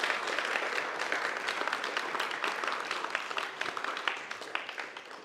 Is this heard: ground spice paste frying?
no